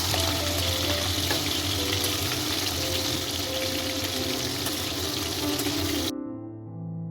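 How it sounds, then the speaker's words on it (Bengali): Marinated shankar fish pieces fry in hot oil in a pan, making a steady, dense hiss that holds for about six seconds and then cuts off abruptly. "মাছগুলো এপিট ওপিট করে ভালো করে ভেজে নেব।"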